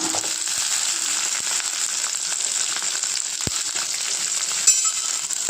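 Onion, garlic, dry red chillies and tamarind sauté in a pan for pudina chutney, producing a loud, steady hissing sizzle with a few sharp clinks of a spoon against the pan.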